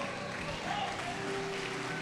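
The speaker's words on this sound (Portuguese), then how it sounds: "Quem crê, fica de pé e aplaude ao Senhor." A church congregation applauding, dense and steady for a brief moment, with voices mixed into the clapping.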